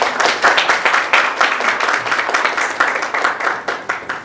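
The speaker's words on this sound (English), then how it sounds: "Please give them a round of applause." A small audience applauds a college student team stepping up to present, close and fairly loud, with individual rhythmic hand claps clearly audible and fading slightly toward the end.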